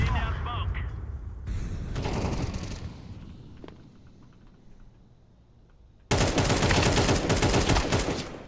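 AK rifle fire in a video game, with bursts of dense gunfire, loud and close, rising abruptly near the end into a sustained heavy barrage, with speech mixed in.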